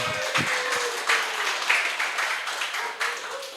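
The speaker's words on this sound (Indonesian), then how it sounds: "Tepuk tangan dulu dong buat semuanya" Light applause from a small group, with scattered claps rising and falling in short bursts, heard near and without talking over it.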